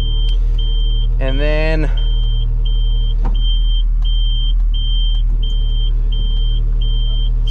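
A hook lift truck raises a dumpster onto its rails with a steady, evenly spaced electronic beep repeating throughout over a low constant engine rumble; a brief voice cuts in early and a few clunks follow.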